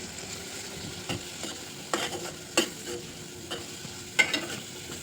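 A spoon stirs turmeric, coriander-cumin powder and chilli powder through a potato fry mixture in a pan, making repeated scraping strokes about once a second over a light, steady sizzle.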